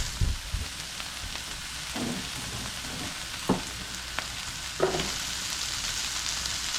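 Mixed vegetables (broccoli, carrot, cauliflower and yellow squash) fry with pork and browned peppers in a pot, giving a steady close sizzle. Several louder bursts of crackling and stirring clatter recur every second or so.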